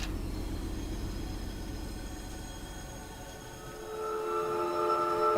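A train rumbles in the Choo Choo Charles video game, a low steady rolling drone with tonal hums that swell louder toward the end as it draws nearer.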